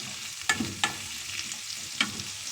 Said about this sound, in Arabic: ناخد تشويحه للفلفل كده وننزل بقى بالطماطم بتاعتنا